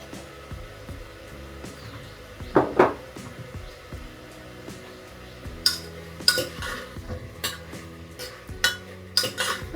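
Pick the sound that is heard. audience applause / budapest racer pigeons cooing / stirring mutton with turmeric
stirring mutton with turmeric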